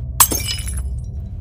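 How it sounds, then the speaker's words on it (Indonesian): A drinking glass breaks and shatters as a horror-story sound effect: one sharp, close crash followed by a brief spray of tinkling shards that fades quickly. "gelas yang ia bawa pun pecah"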